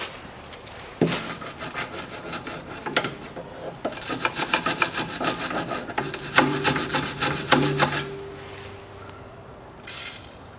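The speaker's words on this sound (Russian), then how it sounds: "Немножко почищу резьбу." Close, steady scraping and rubbing as a brush cleans the bolt thread on a rear stabilizer link of a 2007 Citroen C-Crosser 2.4, in rapid back-and-forth strokes with brief pauses.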